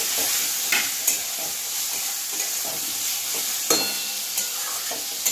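Tomato goes into spiced masala frying in oil for a Bengali spicy lote (Bombay duck) fish curry, giving a steady close sizzle broken by stirring scrapes and a few sharper bursts, with no talking.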